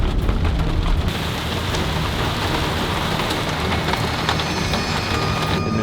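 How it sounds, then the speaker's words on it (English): Heavy downpour drums on a Jeep at a campsite, a loud, steady wash of rain with scattered sharper hits on the vehicle's surface and no voices. "It literally just came a downpour as soon as I got here."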